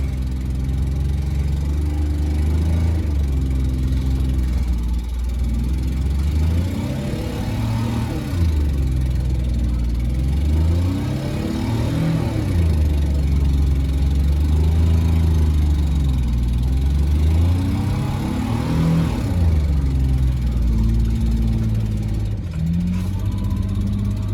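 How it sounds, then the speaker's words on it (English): A rear-wheel drive vehicle's engine labours in winter snow, with a loud, steady drone that rises and falls in long repeated revving surges as it strains for grip. "The struggle is real being in a four-wheel, or a rear-wheel drive vehicle."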